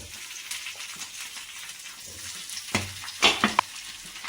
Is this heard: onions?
yes